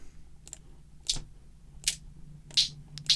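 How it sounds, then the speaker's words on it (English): Hi-hat sample from a drum kit triggered in FL Studio 21, four or five crisp, short metallic ticks at uneven intervals over a faint low hum. "I'll go to a little hi-hat here."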